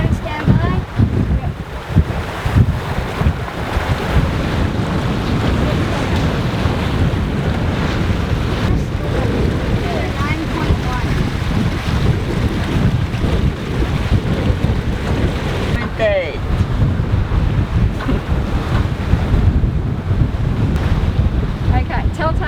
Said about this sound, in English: we've now got the westerly wind hitting us, picking up nicely to 11 knots